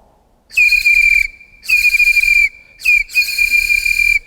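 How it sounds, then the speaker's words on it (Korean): A teacher's handmade toy pipe gives three bright, steady high-pitched whistling tones, each about a second long with short gaps between them, loud and close, like a bird call. "선생님이 만든 피리 소리 잘 들었나요?"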